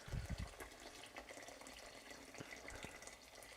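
Water pours from a kettle into a pot of lentil and bulgur chili non-carne, a quiet continuous splashing trickle with a few louder gurgles at the start.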